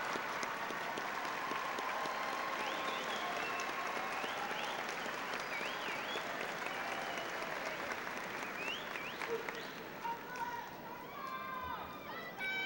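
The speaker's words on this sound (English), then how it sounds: "we'd like to give you a round of applause." A 1996 high school graduation audience applauds in a broad, dense wash of clapping with some cheering voices, fairly faint and distant, tapering slightly near the end.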